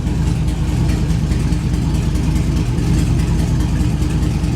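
An old 6-liter motor that had sat unused for a long time, idling with a steady, loud, low rumble that stays even and close throughout.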